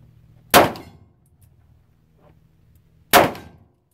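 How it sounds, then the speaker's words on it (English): Revolver bullets strike a 3-foot steel gong 30 yards away, giving two sharp metallic clangs about two and a half seconds apart, each ringing briefly before fading to near silence. "This is a 3-foot gong at 30 yards."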